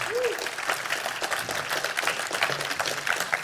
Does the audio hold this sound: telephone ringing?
no